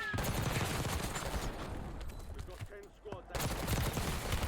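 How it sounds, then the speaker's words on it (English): Bursts of automatic gunfire in Call of Duty: Warzone, rapid cracking volleys that pause briefly near the middle and then resume loudly, close and dense. "we saw that guy straight across there shooting at the guy that we just killed"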